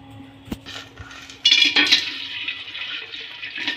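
Ghee and a little white oil pour into a pot while Gobindobhog rice pulao is being cooked: a soft liquid trickle with light metallic clinks, then a louder, hissing splash of pouring that tapers off over a few seconds.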